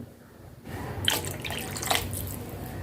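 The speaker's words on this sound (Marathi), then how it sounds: "मी अडीच ग्लास पाणी घालते" Two and a half glasses of water splash and trickle steadily into a pan while making spicy vermicelli (tikhat shevya), a continuous close pouring sound with a couple of brighter splashes.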